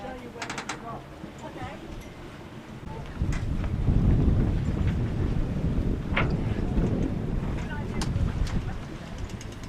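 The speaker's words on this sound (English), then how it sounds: "the wind keeps gusting in every different direction." Gusting autumn wind in Greece buffets the microphone in rising, rumbling surges, with a few faint knocks and creaks in the background.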